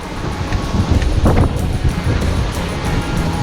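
Strong 35-knot wind and 4-metre waves at sea aboard a sailboat, a loud steady roar of wind buffeting the microphone with surging, crashing water close by throughout.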